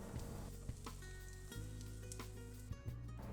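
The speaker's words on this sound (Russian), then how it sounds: "И также обжариваем все тесто." Cabbage fritter batter with egg frying in a pan, giving a steady close sizzle with small crackles and pops throughout, heard alone without talk.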